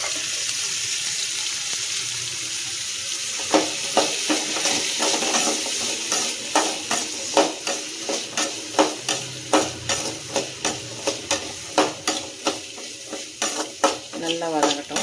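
Garlic and onions sauté in a pan for a village-style fish curry and fry, sizzling steadily while a spoon scrapes through them in quick, rhythmic strokes that become more regular as stirring continues.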